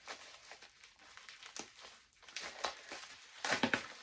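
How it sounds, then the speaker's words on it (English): Crinkling plastic packaging being pulled and torn off a book, a run of close crackly rustles and soft tears that builds to a louder burst near the end. "A little bit of unwrapping here."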